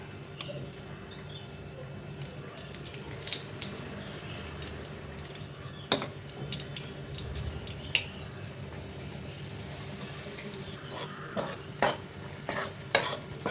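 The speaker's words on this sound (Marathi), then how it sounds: "आता हे राहिलेलं तूप आहे ना, तर आता याच्यामध्ये आपल्याला थोडंसं तूप ॲड करायचं आहे आणि मग आपल्याला नाचणीचं पीठ भाजून घ्यायचं आहे याच्यात." Finger millet (ragi) flour roasts in ghee in a pan, stirred continuously, making a low sizzle with a stream of close scraping and tapping of the spoon, ending in a few sharper clinks.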